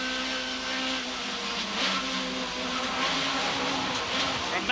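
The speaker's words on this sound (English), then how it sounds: "front-wheel drive Cavalier, rear-wheel drive BMW M3 ahead of us" Onboard engine of a front-wheel-drive Vauxhall Cavalier touring car racing at Silverstone in 1991, a loud steady drone with shifting pitch filling the whole clip, near and continuous.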